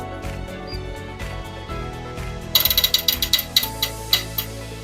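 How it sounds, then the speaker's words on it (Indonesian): Wrench ratcheting as the eighth cylinder head bolt of a Mitsubishi Mirage is torqued, a steady mechanical grind giving way to a run of sharp, close clicks in the second half. "selesai sudah proses pengencangan baut cylinder head untuk unit Mitsubishi Mirage ini"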